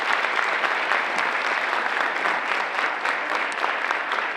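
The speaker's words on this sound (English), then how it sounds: "So let's get a big round of applause for our coaches and all they do." An audience at a school fall sports awards night gives the coaches a sustained round of applause, a dense, even clatter of many hands clapping steadily throughout.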